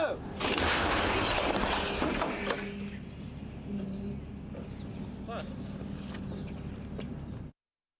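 A loud, booming artillery blast hits at the start, then a long rumbling echo fades over several seconds, followed by faint outdoor background noise.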